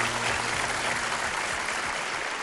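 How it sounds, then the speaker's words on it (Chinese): Audience applause for a lecturer after an archaeology talk, a continuous wash of many hands clapping at a steady level, heard alone without voices. "让我们再一次把掌声送给马老师"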